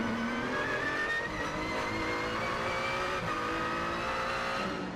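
GT race cars compete at Baku in the Blancpain Sprint Series, engines screaming and rising in pitch as they accelerate past, a dense continuous roar of several cars close together.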